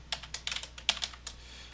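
Quick irregular keystrokes on a computer keyboard, about a dozen crisp close clicks in a light uneven rhythm, with no talk.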